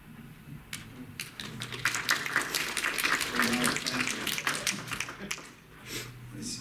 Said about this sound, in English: You don't have to clap after every poem, but you are welcome to.